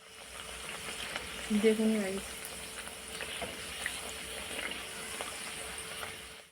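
Pumpkin puri (luchi) dropped into hot oil sizzles and bubbles steadily, with a brief louder burst of frying early on, while someone speaks briefly over the crackle.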